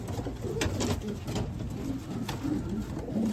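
Racing pigeons coo repeatedly in a loft, low throaty calls recurring in a steady rhythm against a busy background murmur, close and fairly loud, with no one speaking.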